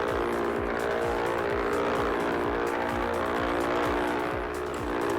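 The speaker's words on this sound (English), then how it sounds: "You can hear the other aircraft." Simulated Diamond DA62 twin-engine aircraft noise in X-Plane 11 holds a loud, steady drone with a repeating rhythmic pulse, alone and unbroken throughout.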